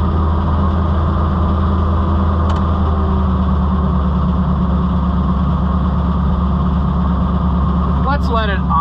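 An Oliver 545 combine engine idles with a loud, steady low rumble and hum that holds unchanged throughout, close by, with a brief faint rattle near the end.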